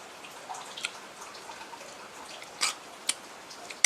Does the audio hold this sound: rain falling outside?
yes